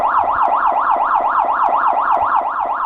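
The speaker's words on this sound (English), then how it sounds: "This is the prepare to evacuate alarm." Prepare-to-evacuate alarm on an offshore installation, a loud, piercing electronic tone warbling rapidly up and down in an even, unbroken cycle, with no voices over it.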